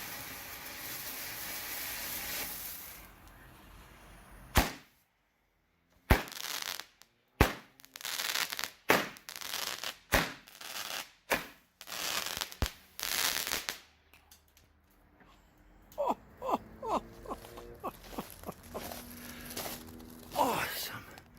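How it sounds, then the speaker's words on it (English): King Bird El Tigre hybrid fireworks cake firing seven shots outdoors: a run of sharp, loud bursts spaced a second or so apart, then crackling and whistling tones toward the end. "Kingbird fireworks. El Tigre. 7 shots."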